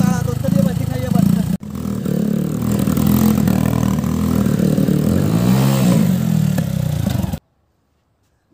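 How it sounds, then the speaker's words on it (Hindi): A motorcycle doing stunt circles drones and revs steadily close by, its engine rising and falling as it loops, with a brief dropout and loud wind-buffeted outdoor noise before it cuts off. "भाई ने गोल चक्कर बना दिया है, मोटरसाइकिल स्टंट आपने देखा"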